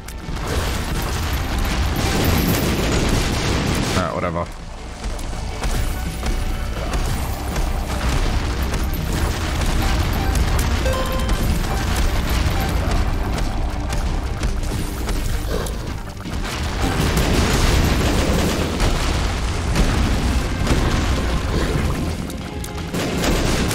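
Dense, continuous booms and crashing blasts fill a Binding of Isaac: Repentance run, loud and layered with clattering game effects, briefly dipping twice before surging again.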